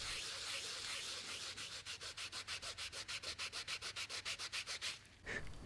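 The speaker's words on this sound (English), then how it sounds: "So I'm going to take it, hit it, remove the adhesive, clean off the residue, and then move on to another part of the canvas." Solvent-dampened swab rubbing adhesive residue off a canvas painting during conservation, a close, quiet continuous scrub that breaks into a fast, regular back-and-forth rhythm of short strokes, with no speech.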